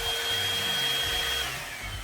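Steady, loud whooshing roar of a Revlon One-Step hair dryer styler running on high with a faint whine, continuous and close.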